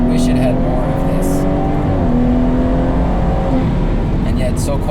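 A modified 2018 BMW 340i with a catless downpipe drones loudly and steadily, its engine pitch wavering slightly as it revs, with a voice talking over the engine.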